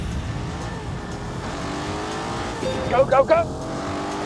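Game-engine roar of an Aston Martin Vantage in The Grand Tour video game, a steady loud drone with a short revving surge near the end, under excited shouting.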